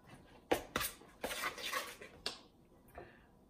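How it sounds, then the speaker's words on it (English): A spoon scraping and clinking against a bowl while cornbread batter with bacon is stirred, several quiet, close taps and scrapes in an irregular rhythm, no talk. "Mix that together."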